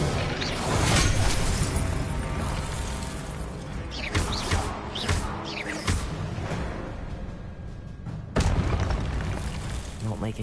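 Spell blasts and booms from Hogwarts Legacy combat burst repeatedly among whooshes, crashes and shattering, loud and continuous throughout, with a voice calling out over the action.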